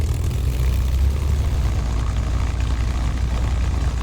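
Asobo P-51D Mustang propeller engine in Microsoft Flight Simulator 2024, a deep, steady, throbbing piston drone with a low rumbling pulse, loud and close, running evenly without voices.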